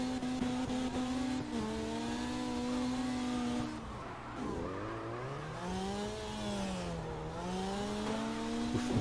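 Falcon FC 90 S engine in CarX Drift Racing, a loud continuous drone whose pitch holds steady, then dips and swoops up and down as the car drifts, with faint tire noise beneath.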